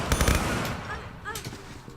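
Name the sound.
guards shooting gunfire in video game Tomb Raider III Gold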